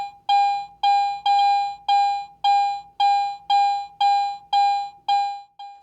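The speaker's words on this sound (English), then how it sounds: "Listen to this coin as I pass it beneath the search coil at different depths." A metal detector's steady electronic tone beeps about ten times in an even rhythm as a coin passes beneath the search coil, loud and close, each beep fading slightly before the next.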